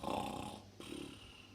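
A voice imitates a dinosaur's loud snore, a throaty, growling snort that rumbles for about half a second, pauses briefly, then drags into a longer, softer breathy snore, heard alone and close.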